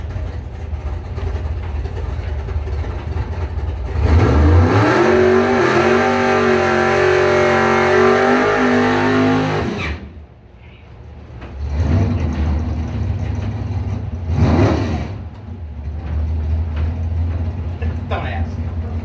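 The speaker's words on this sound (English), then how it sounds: "Jeff Renaud's car getting ready to make a time trial here." A 1990 Beretta race car engine revs loudly for a time trial at a drag racing event, climbing in pitch for several seconds, cuts off, then idles and revs again with voices nearby.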